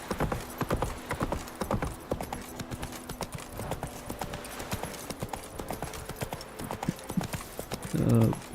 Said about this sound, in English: Let me take my horse.